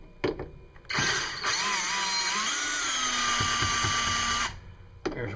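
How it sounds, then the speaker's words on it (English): A cordless power drill fitted with a Phillips bit backs screws out of a Whirlpool Cabrio washing machine, giving a loud, steady whirring spin that runs several seconds between brief starts and stops. "So I got the drill here with a Phillips head bit on it."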